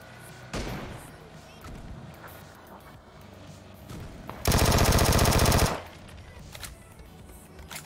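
Gunfire in PUBG: a sustained loud burst of rapid automatic shots lasting over a second, preceded by a single nearer shot and softer distant pops, over low background game noise.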